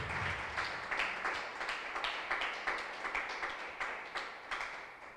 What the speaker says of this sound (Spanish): Le puedo dar otro aplauso al Señor allí nuevamente